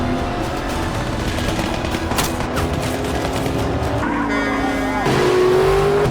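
Movie car chase with a vehicle swerving through heavy gunfire, a dense roar of engine and rumbling action mixed with sharp shots, tire noise and music, loud and continuous throughout.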